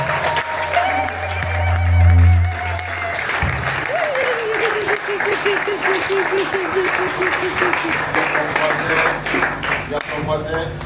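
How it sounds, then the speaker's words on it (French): A church congregation at a seminar in Cameroon applauds God, sustained crowd clapping and cheering in a large room, loud and continuous, while a preacher speaks and sings over it. "Est-ce que tu peux donner l'acclamation à ton Dieu ce soir?"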